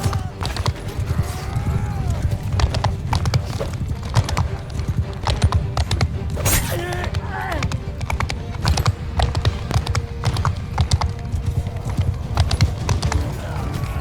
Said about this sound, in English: There's so many horses and mules and everything else running around.